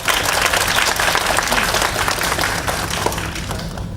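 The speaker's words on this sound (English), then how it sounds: "can you give them a round of applause for bringing us together tonight?" A large audience claps steadily at an evening gathering, a dense, loud wash of applause holding for about three seconds before thinning slightly toward the end.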